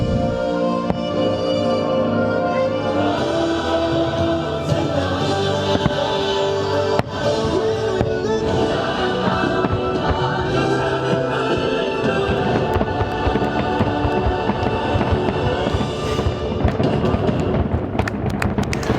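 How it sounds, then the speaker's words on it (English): Fireworks show at Disney's Polynesian resort: a long, loud run of booms, crackles and bursts, dense and layered, with a few sharp reports over a steady rumble. "What do you guys think of fireworks in the Polynesian?"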